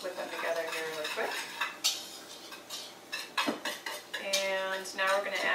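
Dry pancake ingredients with nutmeg are mixed briskly in a bowl for zucchini pancakes, producing close clinks and scraping taps of utensil on bowl in uneven bursts, with a voice speaking at the start and end.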